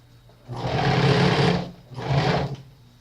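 A sewing machine stitching a children's flared dress runs in two close, loud bursts, a long whirring run followed by a shorter one after a brief pause.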